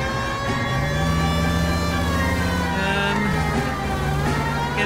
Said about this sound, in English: Do you not hear the siren, sir?